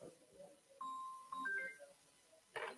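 A phone rings with steady electronic tones in a short melodic pattern, fairly close, followed by a brief burst of noise at the end.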